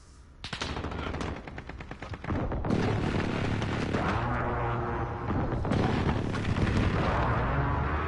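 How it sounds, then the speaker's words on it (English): Heavy precision airstrike explosions and rattling gunfire in Call of Duty: Modern Warfare, loud and sustained, with a sudden surge of booming blasts and a dense barrage continuing to the end. "Be advised, friendly precision airstrike inbound."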